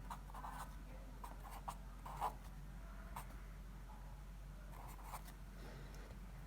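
Marker or chalk scratches across a classroom board in short, scattered strokes while numbers are written into a matrix, faint and broken by small pauses over a low steady hum.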